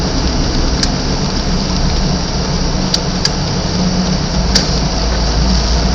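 Rain falling on a car driving through town to a small market, a steady, dense hiss with a low rumble of engine and road underneath, continuous throughout with only a few faint clicks.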